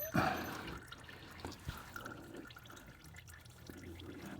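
Motor oil draining from a 2021 Toyota Camry Hybrid during an oil change, a steady close trickle and patter of liquid into a pan with a few sharper drips, heard alone.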